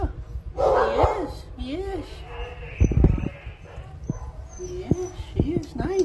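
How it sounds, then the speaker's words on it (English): A puppy in a kennel whimpers and yips in short rising cries and brief barks, close by, with a soft voice talking gently over and between the sounds. "You're a little puppy."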